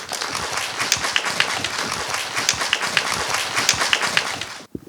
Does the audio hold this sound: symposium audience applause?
yes